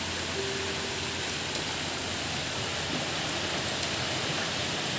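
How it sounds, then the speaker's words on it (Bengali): Heavy rain pours down in a steady, dense hiss, continuous and loud throughout, with no voices. "ভালোই বৃষ্টি হলো কিছুক্ষণের মধ্যেই প্রচণ্ড জল"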